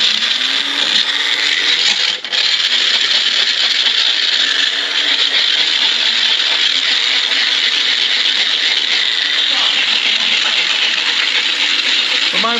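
A small bullet blender whirs steadily as it chops fresh ginger for wild hog sausage, a loud continuous motor roar with the blade rattling the pieces, briefly dipping near the start before running on unbroken.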